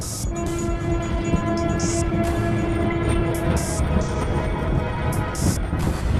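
A train rumbles steadily into a railway station with a long sustained horn tone, broadband clatter and a few brief hissing bursts.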